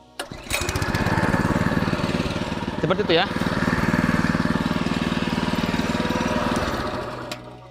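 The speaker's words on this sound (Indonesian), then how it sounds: "dia memiliki mesin berpenggerak engine dengan cara mengengkol saja seperti ini" FT820 double-shaft cultivator with a hand-crank-started engine, catching after cranking and running at a steady, loud, close chug throughout, with a brief voice over it.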